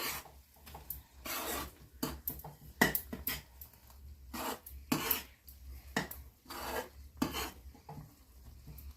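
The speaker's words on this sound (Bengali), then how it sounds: "ঢেলে একটু নাড়বো।" Amla pickle being stirred with a fried spice mix in a pan, a spoon scraping and rasping against the metal in repeated close strokes with brief pauses, steady low hum underneath, no talk.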